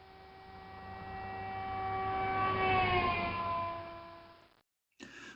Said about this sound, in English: police car, or ambulance with its siren going on.